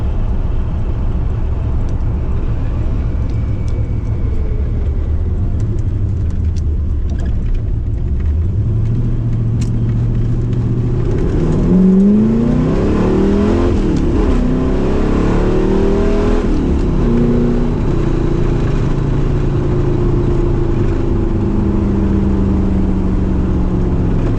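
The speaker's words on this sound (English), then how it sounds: "We'll get up here and just kind of go through the gears a little bit." A 1980 Corvette with stage 1 upgrades climbs through the gears, its engine rumbling and rising in pitch with each shift, heard loud and close from inside the car without any talk.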